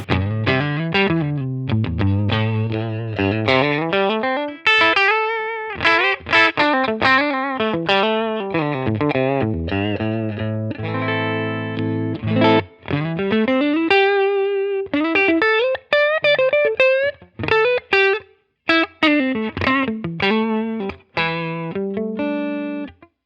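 Distorted electric guitar through an Amplitube 5 amp simulator with a Fender-style tone plays a riff with sustained, bending notes and chugging low chords, loud and continuous with brief gaps, no voices.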